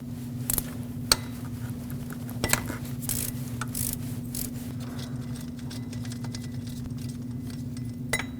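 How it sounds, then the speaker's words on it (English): A ratchet with a 14mm socket loosening the idler pulley bolt on a 2006-2015 Lexus IS250, giving scattered faint clicks and taps over a steady low engine-bay hum. "Using a 14mm socket, remove the idler pulley bolt."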